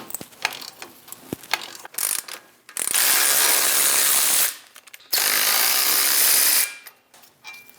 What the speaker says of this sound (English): we're going to remove our 2 caliper bracket bolts using a 21mm socket